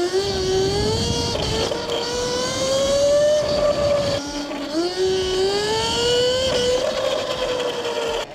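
A 72V Yozma IN 10 electric motorbike whines loudly and continuously while riding and wheelying, its pitch rising and falling as the throttle changes, close and without talk.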